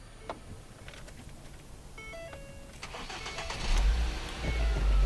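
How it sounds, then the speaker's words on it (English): A car that had a dead battery is jump-started, faint clicks and rattles giving way to the engine cranking and catching, then a low rumbling idle that swells louder near the end. "we'll have Mitch start the dead car"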